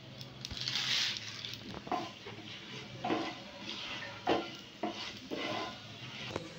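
Cumin seeds and dried red chillies hit hot mustard oil in a pan on a gas stove, giving a moderate hiss with scattered scraping and clinking as the spices are stirred, no voices.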